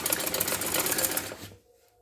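A sewing machine stitches trouser piping in a fast, rhythmic whir at close range, then halts abruptly after about a second and a half.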